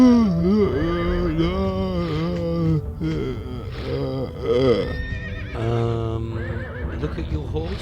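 A horse neighs and whinnies in long, wavering calls, loud and close, in a video game, with a busy layered backdrop and some talk-like sounds mixed in.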